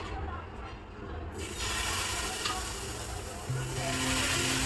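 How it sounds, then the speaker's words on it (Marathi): Chila batter sizzling on a hot oiled griddle, a steady crackling hiss that swells louder as it spreads, with a faint hum underneath. "थोडंसं तेल टाकून घेऊया आपण या तव्यावर आणि आता बॅटर सोडूया"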